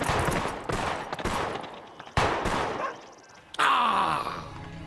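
Gunshots ring out at a fleeing woman, with a rattling volley of shots, groans and cries, and a few sharp reports that stand out from the rest.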